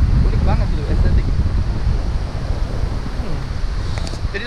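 Waves and wind on Papuma beach in Jember, East Java, a continuous low rumble of surf with gusty microphone wind buffeting throughout, fairly loud and close.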